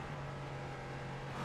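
An LMP3 race car engine heard onboard at Oschersleben, a steady droning hum under wind noise at moderate level, with no talking.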